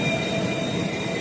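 Passenger train 05086 on the Lucknow–Sitapur–Mailani line near Hargaon station rolls past with a loud, close, continuous rumble and faint wheel squeal, and no talk.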